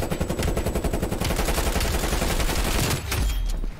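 Rapid automatic gunfire in a video game, a loud, sustained burst of closely spaced shots that continues for about three seconds before breaking off into a few scattered bangs.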